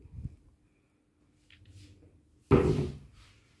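A two-door closet in a furnished bedroom bumps softly, then shuts with a single loud, close wooden clack that rings briefly after a near-silent pause.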